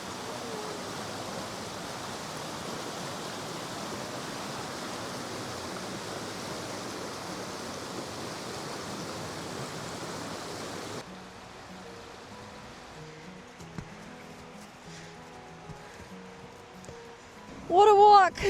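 A river flows steadily in Swedish outdoor country during a walk. Its dense, even rush fills the first part, then cuts to a much quieter background with faint sounds and a brief louder burst at the end.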